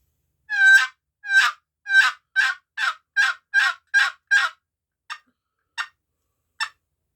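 A Primos Heartbreaker turkey call produces a run of about eleven sharp, raspy, high-pitched yelps, loud and close, the last three shorter and more widely spaced, with silence between.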